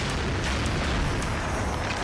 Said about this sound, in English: massive particle-driven explosions